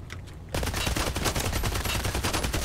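Gunfire from the video game Hired Ops crackles in a rapid, dense run of close, loud reports that starts abruptly after a short quiet lead-in and continues without pause.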